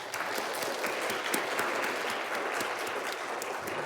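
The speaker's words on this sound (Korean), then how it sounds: "우리 감사하고 격려하는 박수 한번 드리겠습니다." A church congregation applauds after a choir's hymn at a Sunday service, a steady, even patter of many hands clapping throughout, moderately loud with no voices over it.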